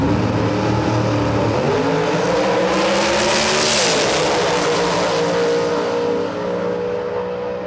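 A Ford Mustang makes a drag racing run at the track, its engine roaring loud and close as it climbs through the revs, shifts around the midpoint and keeps pulling, then fades slightly at the end.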